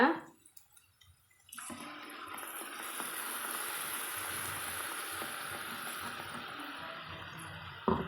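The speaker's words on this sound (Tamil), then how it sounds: "தண்ணி சேர்த்து தேவையான அளவு நம்ம இது கூட கலந்துக்கலாங்க" Water is poured steadily into a simmering pan of agathi flower kara kuzhambu curry, a continuous close rushing pour lasting several seconds after a short clink.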